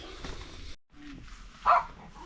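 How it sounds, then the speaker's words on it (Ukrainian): A dog gives a single short, sharp bark at middle distance outdoors near a yard gate, standing out against faint background noise. "Що ти гавкаєш"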